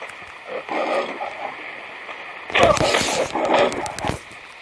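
A lion in the survival video game Survivalcraft lets out loud, rough roars in two bursts. The second burst is stronger, and a voice talks in between.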